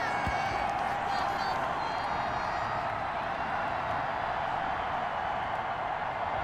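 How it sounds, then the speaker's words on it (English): Home crowd at a Baltimore preseason game in Madden NFL 21 on PS4 keeps up a steady, dense roar of cheering and murmur that stays loud and continuous throughout, with commentary voices blended underneath. "you won't hear any boos from this home crowd on that call"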